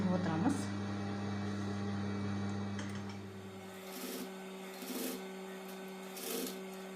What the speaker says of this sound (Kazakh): Дәл осылай айналдырып отырып тігіп отырамыз.